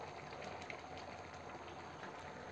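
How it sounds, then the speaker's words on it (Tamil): A pot of horse gram sambar boils with a continuous bubbling, simmering hiss, moderately loud and close, with no voices. "இப்போ நம்ம கொள்ளு சாம்பாருக்கு கொள்ளு சேர்த்தோடனே நல்லா கொதிச்சு வந்துருச்சு"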